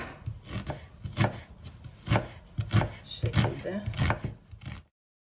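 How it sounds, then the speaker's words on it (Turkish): A knife slices an onion into half-moons on a cutting board, a quick run of crisp thuds, with a voice talking over it. "Ay şeklinde doğruyoruz soğanımızı."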